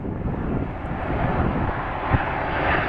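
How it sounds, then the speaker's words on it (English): Swiss Airbus A330 airliner on approach to Dulles with a high angle of attack, a continuous low jet rumble and hiss of moderate loudness, slowly building as it passes. "We have the Swiss Airbus A330"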